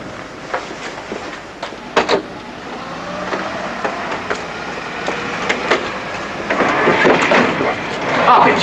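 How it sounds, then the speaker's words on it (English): A steam-era passenger train travelling on rails in a 1946 film, a continuous rumbling rattle with repeated clacks that grows louder toward the end, heard alone without talk. "Traveling by train."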